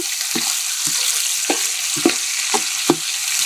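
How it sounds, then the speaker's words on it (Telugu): Onions, green chillies, coriander and curry leaves fry in oil over a wood-fired stove for a pulao, making a steady loud sizzle broken by repeated scraping stirs. "ఉల్లిపాయ, పచ్చిమిర్చి, కొత్తిమీర, కరివేపాకు బాగా వేపుకుంటున్నాము."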